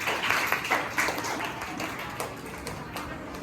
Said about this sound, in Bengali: বিজয়ীদের জন্য আমরা হাততালি দিব আবার